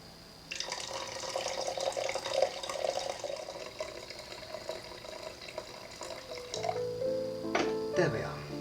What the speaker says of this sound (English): So, okay, so then we're going to pour some more water.